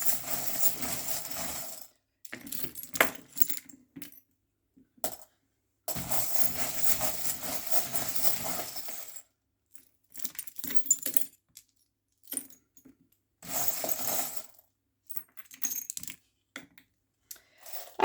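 Divination charms are cast and dropped onto a surface, giving bursts of small metallic clinks and jangles. They come in several separate rattling clusters with quiet gaps between them.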